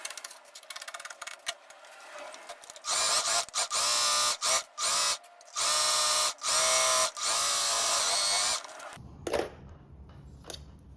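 A sewing machine runs a zigzag finishing stitch along the edge of dress fabric in fast bursts, stopping and starting several times, loud and close, with a final clatter as it halts.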